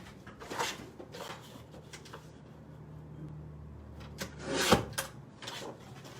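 Paper trimmed for an Easter basket craft: soft scraping and cutting sounds in short bursts, with a sharper snip near the end, quiet and close in a calm room.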